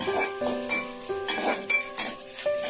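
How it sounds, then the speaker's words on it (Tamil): Onion, curry leaves and green chillies are sautéed in oil for mutton kulambu, with close metallic spoon-on-pan scraping and clinking over a light sizzle, plus a tonal ringing hum in the background. "மறுபடியும் வெங்காயம், அப்புறம் கருவேப்பிலை, பச்சை மிளகாலாம் போட்டு கொஞ்சம் எண்ணெய் விட்டு நல்லா வதக்கிங்க"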